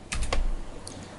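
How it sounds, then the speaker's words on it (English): A few quick clicks of keys being typed on a computer keyboard while entering a value into 3D modelling software, close and fairly quiet, with brief gaps between keystrokes. "So we're going to type in"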